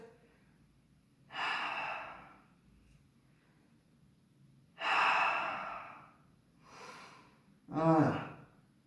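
Slow, deep breaths during a yoga downward dog pose, heard as three or four separate airy inhales and exhales spaced a few seconds apart, close and clear against a quiet room.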